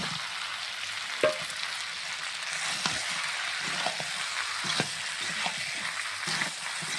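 Meat frying in oil with garlic, ginger paste, cumin paste, turmeric and salt gives a steady soft sizzle. Occasional scraping stir strokes and a few louder knocks of a spoon against the pot sound close by.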